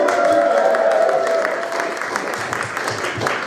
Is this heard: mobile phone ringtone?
no